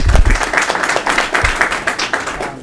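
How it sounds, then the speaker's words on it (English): An audience at a union general membership meeting claps in a dense, steady round of applause that fills the room at close range and stays even throughout. "I appreciate the applause"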